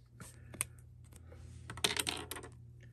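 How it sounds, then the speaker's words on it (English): Pen writing a giveaway winner's name during a 2023 Mosaic football card break, heard as quiet scratchy strokes in short bursts, busier toward the end, over a low steady hum. "I'm going to write that right here."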